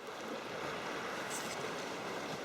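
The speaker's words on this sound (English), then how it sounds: "Look at the water going in and out of there." Sea water surges in and out of a rocky gully on the coast near Porth Dinllaen, heard from a sea kayak as a steady, rushing wash of surf with no talking.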